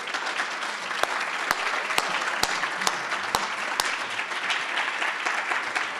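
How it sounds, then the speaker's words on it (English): Audience applause welcoming a keynote speaker to the stage at a conference, a steady wash of clapping punctuated by several sharp, loud individual claps close to the microphone. "Please welcome me with applause as we bring to the stage our keynote speaker"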